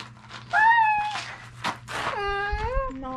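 Kittens meow several times in quick succession, clear high tonal cries close to the microphone, with a low steady hum underneath and brief rustles between the calls.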